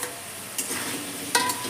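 Fried eggs and potatoes are stirred into a cooked masala with oil for an egg and potato curry. Two quick scraping stirs stand out over a soft background sizzle.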